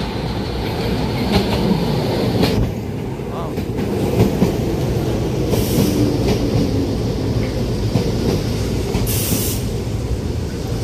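A retro-styled train rolls past close by with rumbling wheels and rhythmic clickety-clack over rail joints, loud and sustained, with a few brief high squeals and bursts of brake or wheel noise along the way.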